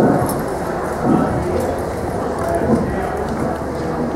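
A mare gallops across an arena at an Australian agricultural show, hooves thudding in a quick, muffled rhythm under a loud crowd and a talking voice.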